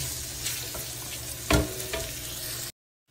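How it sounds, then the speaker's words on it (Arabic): Bacon sizzling in a large pot, rendering its fat, a dense steady crackle up close with a sharper clatter midway, then it cuts off abruptly into silence. "في قدر كبير حضيف البيكن."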